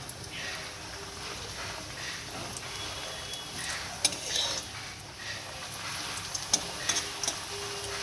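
Pieces of spinach paratha frying in a pan, a quiet continuous sizzle with intermittent metallic taps and utensil clinks nearby.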